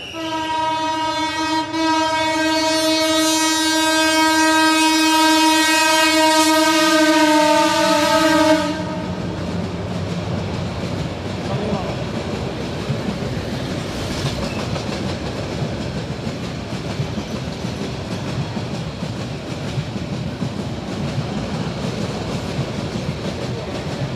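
A passing train sounds a long, loud horn blast for about eight seconds, then carries on as a continuous rumble and clatter of wheels on rails, with no voices.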